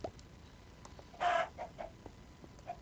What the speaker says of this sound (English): I'm just killing all the chickens around here.